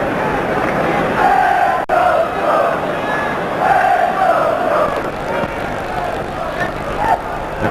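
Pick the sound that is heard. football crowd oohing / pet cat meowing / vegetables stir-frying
football crowd oohing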